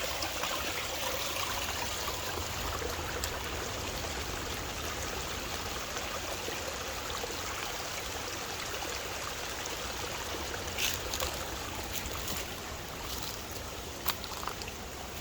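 A stream of spring water trickles and flows steadily near Bathsheba, Barbados, where refuse and vegetation clutter the channel, making a constant broadband rush with faint splashes and no voices.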